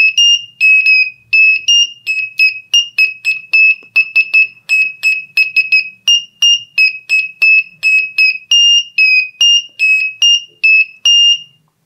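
Shrill piezo buzzer tones from a homemade buzzer piano circuit built with switches and resistors, pressed in rapid short beeps that switch between a couple of pitches, loud and close against near silence.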